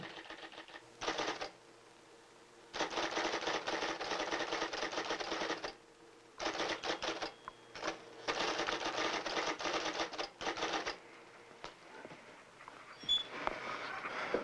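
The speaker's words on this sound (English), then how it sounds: "You've caught me typing, but that's no surprise. I'm typing all the time." Bursts of rapid mechanical typewriter clacking, close and loud, separated by short pauses, with a few isolated key strikes near the end.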